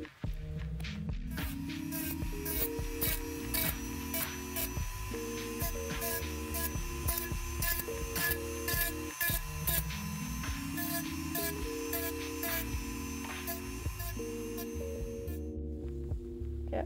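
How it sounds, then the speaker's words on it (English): A Dremel rotary tool with a homemade sanding end smooths the rough surface of cosplay horns, a close whining hum that steps up and down in pitch with rapid repeated grinding pulses throughout. "we're now going to dremel off all the roughness with this homemade dremel end"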